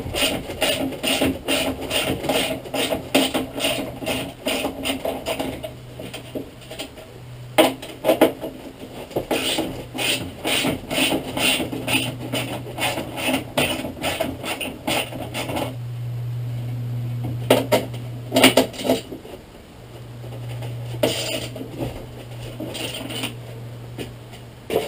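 A 10mm socket working tight bolts and nuts loose on the second-row door of a Land Rover Defender Tdci/Puma, with repeated metallic ratchet clicks and clinks of tools close by, alternating with a low steady hum and short pauses.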